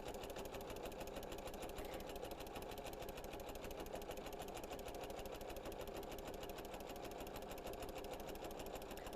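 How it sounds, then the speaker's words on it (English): A sewing machine stitches a quilt-as-you-go rag quilt with a fast, steady, even mechanical chatter that runs on without pause. It stays moderately quiet throughout, with no talking. "the rhythmic sound of the sewing machine sewing"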